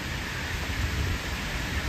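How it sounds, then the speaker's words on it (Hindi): Heavy monsoon rain pours over hills outside a balcony, a dense, steady hiss of water with no break and no voices. "अभी फुल बारिश आ गई।"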